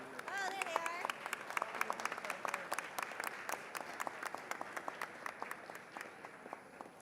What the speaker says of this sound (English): Let's give them a round of applause and best wishes for a successful day.